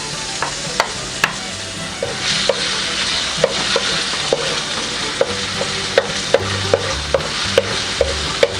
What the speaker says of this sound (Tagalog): Ang una po nating igigisa ay itong ating bawang.